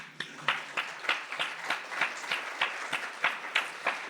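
A small audience gathered for a local history talk in Keene, New Hampshire, gives sparse, evenly paced applause, a handful of individual claps ringing out in a quiet room.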